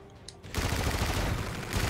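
Gunfire in a first-person shooter game erupts as a dense, rapid burst of shots after a brief quiet moment, loud and sustained.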